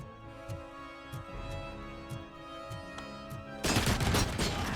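Enemy machine gun fire in the shooter Robocop: Rogue City: a steady pulse of shots under a humming background, then a dense, loud roar of sustained fire at the end.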